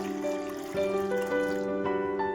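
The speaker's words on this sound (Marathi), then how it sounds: "त्यासाठी मी इथे भांड्यामध्ये पाणी घेते" Water trickling and pouring into a kitchen vessel, a steady close liquid stream with ringing tonal resonance that shifts in pitch as the container fills.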